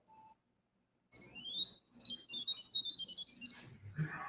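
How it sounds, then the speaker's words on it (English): A SensorWatch's piezo buzzer chirps out data from a watch face as a rapid run of high, quick beeps and warbling tones, close and clear, after one short opening beep and a brief pause. "One SensorWatch backer has built a really cool chirpy watch face that uses the piezo buzzer to beep out data."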